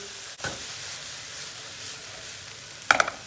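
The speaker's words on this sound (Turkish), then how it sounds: "Yağımız ısınmaya başladı. Hemen soğanını ilave ediyoruz. Soğanı şöyle bir kere karıştırıyoruz." Onions frying in hot oil give a faint steady sizzle, with a thump of the spoon early on and a sharp clatter of stirring near the end.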